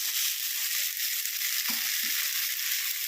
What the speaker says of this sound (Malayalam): ഇച്ചിരി കരിയാപ്പല നിരത്തിയിട്ട് വറുക്കാം.